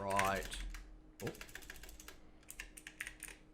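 Rapid typing clicks on a new computer keyboard come in close, crisp bursts with short pauses between them, and a brief voice is heard at the start.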